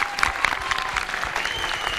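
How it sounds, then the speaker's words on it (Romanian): A crowd at a televised Romanian folk ensemble competition applauds loudly and continuously, a brisk, dense clapping with a faint cheer mixed in. "Vă rog eu aplauze pentru această dovadă de fair play."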